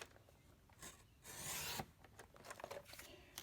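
Cardstock for a daisy flower pot card is trimmed on a paper trimmer's cutting channel, a soft close rasping slide of the blade followed by lighter scraping rubs.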